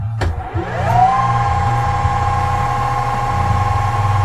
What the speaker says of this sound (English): we'll put this in the lathe and we'll put it around so that we can take some off here